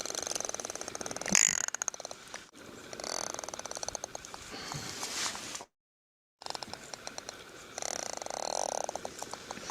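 A Pacific giant salamander growls in a recording, giving rough, rattling, ratchet-like pulses in repeated close bursts that stop for a brief silent gap and then resume.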